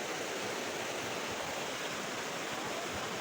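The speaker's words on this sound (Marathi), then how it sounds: "इकडून बघू शकता तुम्ही पाणी जातं असं मस्त खाली नदीचं एकदम" Steady rushing water pours down continuously from a dam into the river below, a dense broadband roar with no pauses.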